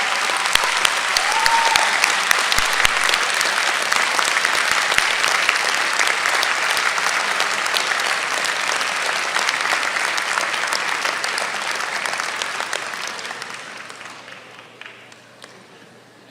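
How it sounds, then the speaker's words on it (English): A graduation ceremony crowd for a business school MBA class gives long, dense applause for the graduates' families, steady and full for most of the stretch before tapering off and fading out near the end. "Just give them a round of applause."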